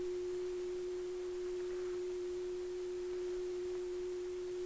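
A single steady pure tone hums continuously and evenly, forming a standing wave in air, with no other sounds present.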